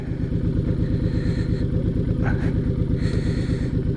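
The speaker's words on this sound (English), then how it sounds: "Let me put this thing in neutral and let it idle for a little bit." A Honda VTX1800R cruiser motorcycle idles in neutral, its big V-twin thumping in a loud, steady, lumpy rhythm heard up close with no other sound over it.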